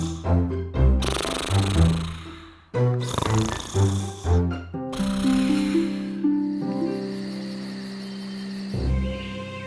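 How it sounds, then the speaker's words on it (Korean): A cartoon young man sleeps through the night in a room in a fairy-tale castle, snoring in a series of deep, rumbling breaths over soft background music. "그는 공주들이 준비한 방에서 밤새도록 코를 골며 잠을 잤답니다."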